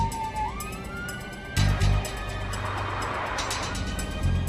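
An ambulance siren wails steadily and loudly, with rising and falling tones and a low engine rumble underneath. A couple of heavier thuds come partway through, and no voices are heard.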